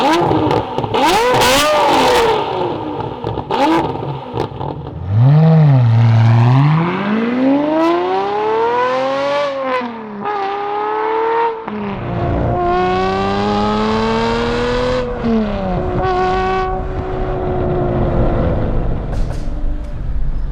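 An Aston Martin DB7 Vantage with a 6-speed manual and V12 engine accelerates hard, its note climbing steeply through several gears with brief dips at each shift, loud and close throughout.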